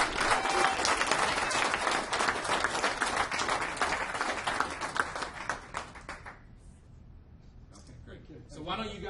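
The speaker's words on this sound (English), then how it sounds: "Let's give Pete a round of applause." An audience at a business recognition night in Cherry Hill, New Jersey breaks into loud, dense applause for Pete that rolls on for several seconds, then thins out to scattered claps and murmurs.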